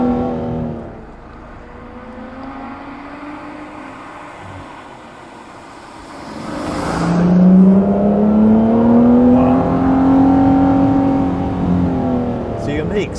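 An Aston Martin One-77 engine, said to rev quicker than other Astons because of a lighter flywheel, rises loudly in pitch through the second half after a quieter steady hum, with people talking over it.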